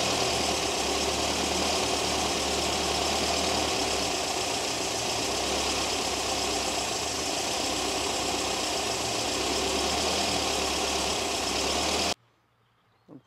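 Car engine fitted with twin double-barrel carburetors, ignition timed at 6 degrees, idling steadily with a loud, even rumble for about twelve seconds before cutting off abruptly.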